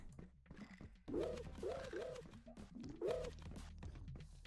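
A pigeon-like bird in the video game Sludge Life 2 coos in a run of soft, rising-and-falling calls, several in quick succession, fairly close over a quiet background, with no talking.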